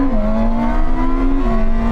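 A Ferrari SF90 or a BMW M superbike accelerates hard in second gear in a drag race, its engine note rising in a loud, steady whine with a small dip partway through.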